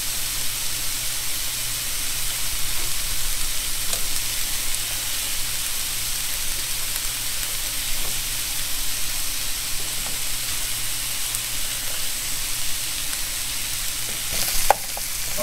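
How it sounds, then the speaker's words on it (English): Catfish fries in hot grease in a pan, giving a loud, steady, even sizzle that runs the whole time with faint clicks and one small knock near the end. "whether I'm pan frying it or frying it in grease"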